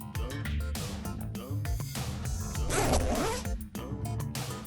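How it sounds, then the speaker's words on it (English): A zipper on a handmade cloud-shaped bag of thick foam paper and cardboard is pulled in repeated quick zips, close and crisp, for several seconds with no talk. "Connect the pieces with a strip of foam paper and a zipper."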